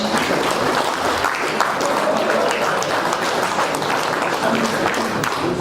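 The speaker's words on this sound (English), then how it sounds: "Big round of applause." Loud, sustained applause from an audience at the 2018 Cardiff Motorcycle Show awards, dense clapping throughout with faint voices mixed in.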